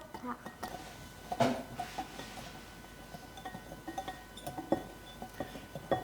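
A utensil stirring sauce in a bowl, with light, irregular clinks and taps of metal against the bowl coming steadily over soft background noise.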